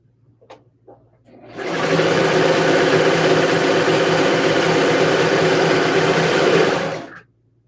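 A sewing machine runs steadily for about five and a half seconds, stitching ruffles together in a small home studio, loud and close with an even motor whir that starts and stops abruptly.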